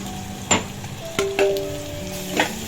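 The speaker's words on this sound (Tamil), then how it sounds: "அடுத்து நம்ம இஞ்சி பூண்டு பேஸ்ட் போட்டுக்கலாம்." Ginger garlic paste sautés with softened onion in a pan for a white chicken milk kurma, with a soft sizzle and a few sharp utensil clinks against the pan.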